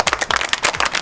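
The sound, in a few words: clapping for Srosh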